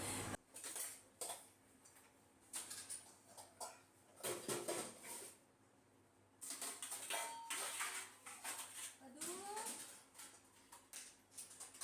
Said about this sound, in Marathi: चहा वगैरे पिऊन झाला आणि आता भांडी लावून घेते